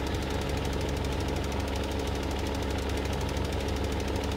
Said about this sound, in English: This tractor's a little bit underpowered on these bigger hills